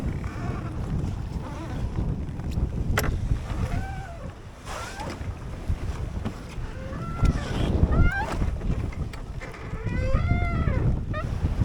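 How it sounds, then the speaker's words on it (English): Out on the Atlantic aboard a 21ft home-built sailboat, steady wind and small seas make a broad rushing wash, with intermittent high chirping squeaks over it. "The wind is blowing about 15, but the seas are really small."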